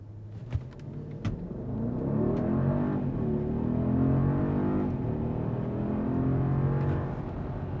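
A 2022 Mercedes-Maybach GLS600 accelerating hard from 0 to 100 km/h, a smooth, steadily rising engine drone heard from inside the cabin after a few clicks, holding strong for several seconds before easing off.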